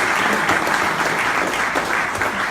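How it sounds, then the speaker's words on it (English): Audience at a Liberal forum speech event applauds, a steady, full wash of many hands clapping close and loud throughout, with no speech over it. "we need to give them a big round of applause for that"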